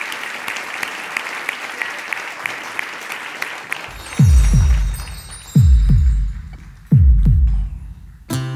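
A studio audience claps to welcome performers at a retro music show, steady applause for about four seconds before deep rhythmic music beats take over.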